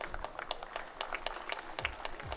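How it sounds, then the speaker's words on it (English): Brief burst of applause from an audience at a college welcome event, many hands clapping steadily for about two seconds with a faint murmur underneath. "Give a big round of applause to Professor Bhaskar"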